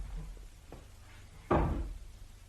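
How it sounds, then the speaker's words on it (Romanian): A chair falls over in an adjoining room, giving one dull, heavy thud after a couple of faint knocks, muffled and somewhat distant. "A căzut un scaun în camera de alături."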